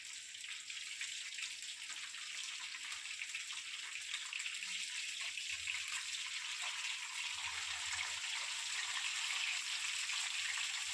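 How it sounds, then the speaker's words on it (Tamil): Fish fries in hot oil with a continuous, fairly faint crackling hiss that holds steady throughout, with no voices over it. "இப்போ எண்ணெயில் போட்டு பொரிச்சிடும்"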